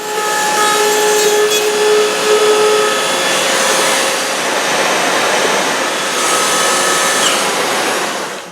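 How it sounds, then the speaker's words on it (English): A power router cuts into a wooden cabinet door with a loud, steady high-pitched whine and a harsh cutting hiss that holds for about eight seconds, close up and with no talking. "I'm just going to go ahead and route this."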